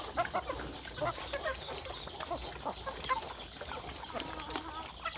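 Chickens cluck and chatter continuously while feeding on a farm after rain, a busy flock close by with overlapping calls and brief sharper squawks over a steady background hum.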